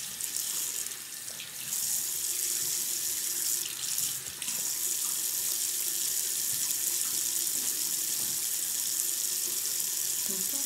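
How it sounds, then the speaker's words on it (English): Steady water running from a tap into a sink, a continuous hiss and splash with no break throughout. "Try to turn the water on."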